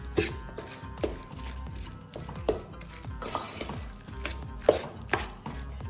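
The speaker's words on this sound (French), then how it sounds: "Et on va mélanger, toujours à la fourchette." Tuna and beaten egg mixed with a fork for brik, giving a series of light, irregular clinks and scrapes of metal against a bowl, fairly close and with no talking.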